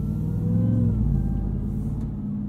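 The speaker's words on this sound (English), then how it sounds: "this 702 horsepower Hellcat motor is just one of the best V8 engines I think ever made" A 2021 Ram 1500 TRX with its 702-horsepower supercharged Hellcat V8 driving at night on the road, a deep steady engine rumble with low harmonic drone, close and continuous, easing slightly toward the end.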